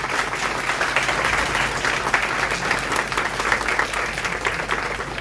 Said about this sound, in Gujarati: એકવાર જોરદાર તાળીઓથી બધા વધાવી